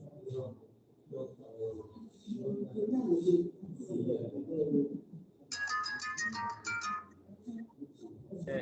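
A phone ringtone from an incoming call sounds during a conference, a short bright melodic ring rising over ongoing nearby talk.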